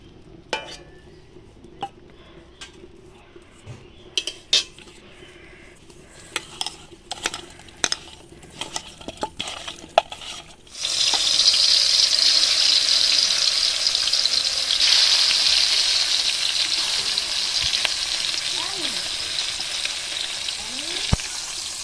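Lata fish fries in hot oil in a wok over a village clay stove, a loud steady sizzle breaking out midway after scattered clinks and taps.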